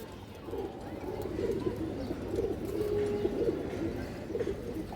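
China khaki pigeons coo close by in repeated soft, throaty phrases, several low rolling calls overlapping over a steady background hum.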